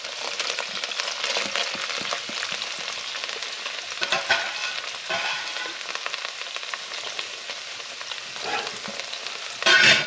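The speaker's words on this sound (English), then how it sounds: "Now I'm going to go in with our chopped onion." Chopped onion frying steadily in a pan for a pasta al forno sauce, giving a continuous close sizzle with occasional scraping stirs and a louder burst near the end.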